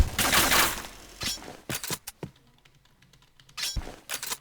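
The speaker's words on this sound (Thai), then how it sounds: "ฟังเสียงคีย์บอร์ดไหมฮะ" Quick clusters of sharp clicks and clacks, like keys being struck, come in bursts with pauses between them against a quiet background.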